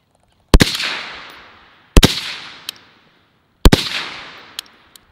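Three sharp suppressed rifle reports from a Huxwrx Flow 556 suppressor on a 13.9-inch barrel, fired at a slow, even pace, each a loud crack followed by a decaying outdoor echo.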